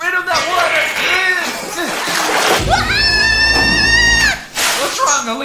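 Water is splashed in a backyard, with a brief burst of splashing amid excited voices, laughter and chuckling, followed by a sustained high-pitched tone.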